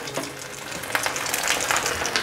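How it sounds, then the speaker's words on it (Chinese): Vegetarian mock fish pan-fries in hot oil, a steady close sizzle with crackling spatters that grow busier and brighter toward the end, with no voices. "第二面也煎得差不多了，翻过来，关火起锅"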